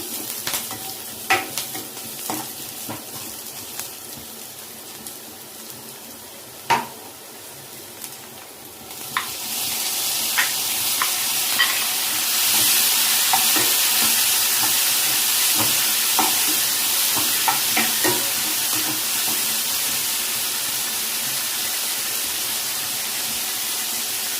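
Tomatoes and onions fry in a pan for a biryani lunch. A steady hiss of frying runs throughout and grows louder and fuller about a third of the way in, with scattered stirring clicks and scrapes near the pan. No one speaks.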